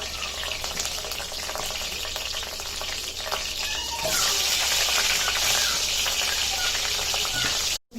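Potatoes fry in oil for a Konkani prawn dish with a dense, loud, close sizzle that swells a little halfway through and drops out abruptly just before the end.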